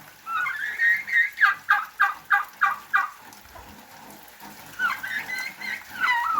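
Turkeys gobble in a rapid rhythmic burst in the rain, followed by more scattered gobbles a few seconds later, nearby and fairly loud.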